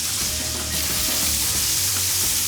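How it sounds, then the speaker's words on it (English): Boneless beef short ribs sear in canola oil in a very hot sauté pan, giving a steady, loud, dense sizzle that runs through the whole stretch with faint scrapes and low kitchen rumble beneath. "Super hot saute pan, canola oil, and we want to get a nice sear on these guys."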